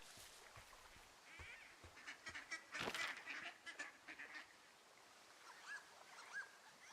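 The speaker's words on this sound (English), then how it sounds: "Like hearing the ducks" Several quiet duck quacks and honks scattered over a faint ambient background in the video game Resident Evil 4 Remake, with a louder cluster midway.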